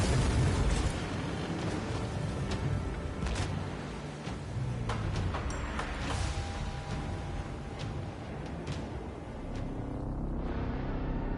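Naval battle in Assassin's Creed Origins, with a galley's catapult firing and explosions booming in a continuous, dense roar of blasts, crashes and battle noise that stays loud throughout, easing slightly near the end.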